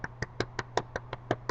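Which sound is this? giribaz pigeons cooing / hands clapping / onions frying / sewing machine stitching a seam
hands clapping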